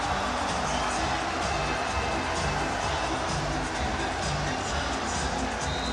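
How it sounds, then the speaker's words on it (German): Football fans cheering after a Kickers Offenbach goal against Ulm at the Licher Cup 2010, a dense, sustained crowd roar from a distance with a commentator talking over it. "Und links jubeln sie."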